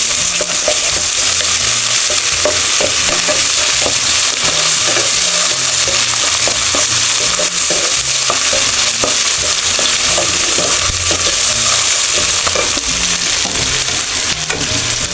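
Cumin, coriander and ginger-garlic paste frying hard in hot oil for a rohu fish curry with cauliflower and potato, a loud, dense, continuous sizzle with rhythmic spatula stirring and scraping, close up and alone.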